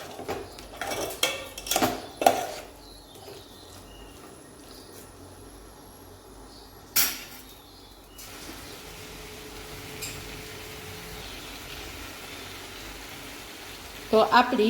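Dry potato sabzi mixed with peanut powder and spices is stirred in a pan. Bursts of spoon clanks and scrapes against the metal come early and again near the end, with quieter sizzling in between.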